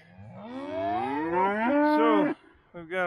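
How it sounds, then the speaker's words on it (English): Dexter cattle on a farm moo loudly and close by, one long drawn-out low before a brief pause and the start of another call, with no talking over them. "so we've got a lot of inquisitive cows over here"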